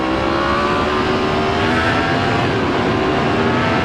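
A Yamaha FZ-10 motorcycle running through a $600 silk muffler gives a steady, fairly subdued engine drone with a smooth tone, heard close while riding for about four seconds, with no talk.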